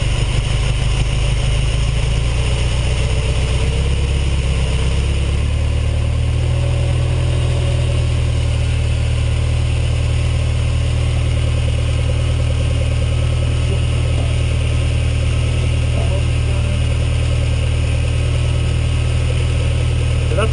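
A Ferrari 308 GTS engine idles steadily during a carburetor sync, a loud, even, continuous rumble that settles into a smoother, slightly lower note after about six seconds.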